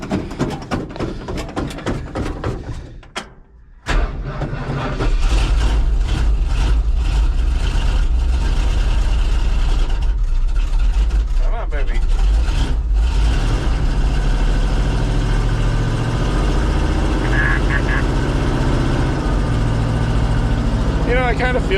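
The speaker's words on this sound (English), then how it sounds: "this thing doesn't like being cold. Let's try and fire it up" An old truck engine cranks and catches, then roars steadily at high revs while cold, a loud, close, rumbling drone with some fluctuation; someone talks briefly at the start.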